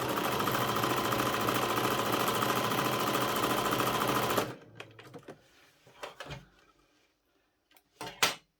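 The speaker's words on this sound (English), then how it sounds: "So we're just going to pop them right sides together and sew the underarm area." A sewing machine runs steadily and loudly for about four seconds, stitching the side seams of a doll's lab coat, then stops, followed by a few quiet handling clicks and rustles.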